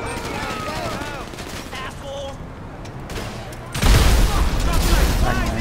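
Gunfire and explosives in the video game GTA 5: rapid bursts crackle under game sounds and chatter, then a loud sustained barrage of shots and booms erupts near the end.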